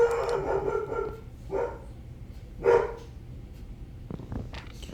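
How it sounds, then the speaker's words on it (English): A dog barks in the background, several loud bursts at first, then two separate barks and a few short yips near the end, with nothing else in the foreground. "The dog's barking in the background."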